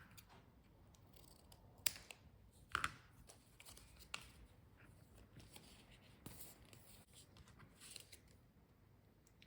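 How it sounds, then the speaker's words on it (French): Scissors snip through paper while a mini album is assembled, giving a few sharp, close cuts and light paper rustles over a quiet room. "je vais couper..."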